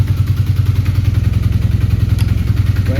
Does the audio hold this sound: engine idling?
yes